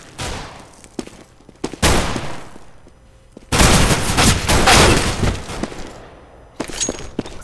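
Gunfire in a shooter video game, with sharp single shots and two dense bursts of rapid automatic fire, loud and close, separated by quieter gaps with scattered distant pops.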